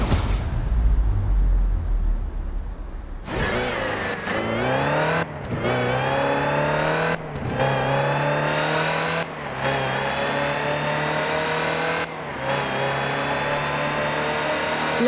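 Land Rover Type 3 engine in Forza Horizon 4, starting with a low rumble before firing into loud revs that climb through repeated gear changes, each shift marked by a brief dip before the pitch rises again.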